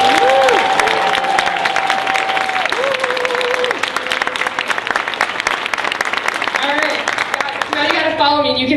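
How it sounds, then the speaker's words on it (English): A presentation audience claps hard and cheers on request, a dense wash of loud applause with whoops and shouted voices rising over it throughout. "Let's hear some cheers for Dane by Local."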